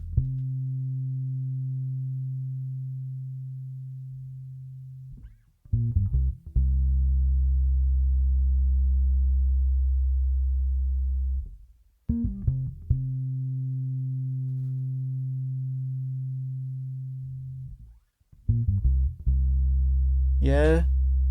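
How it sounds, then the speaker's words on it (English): Long sustained low bass notes from an electric bass recorded through an iBass ring out one after another, separated by short plucked attacks and string noise, with a brief high squeak near the end. "let's actually listen firstly to what the bass sounds like once it's recorded through my iBass"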